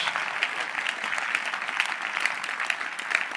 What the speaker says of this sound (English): Are you clapping hands for the Lord?